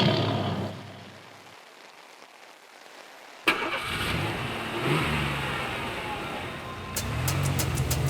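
A car engine cranks and catches, then revs and settles into a running idle, close and clear after a quiet moment, with a few sharp clicks near the end.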